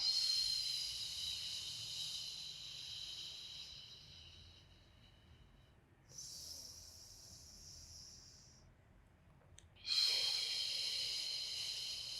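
Long breathy exhalations come from someone doing a beginner pilates workout, with steady hissing breaths at close range separated by brief pauses, and one sharp, forceful exhale near the end.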